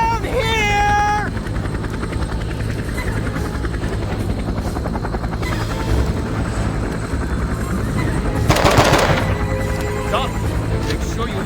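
A helicopter in the video game Men of Valor sends out a steady, loud rotor drone that runs the whole time, swelling into a brief louder burst near the end; any gunfire is not clearly picked out, and voices seem to sit underneath.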